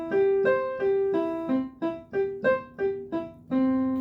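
A single voice sings rising and falling broken-chord notes without words, first smoothly connected, then short detached notes.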